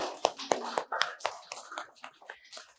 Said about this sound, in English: Clap for Ankit.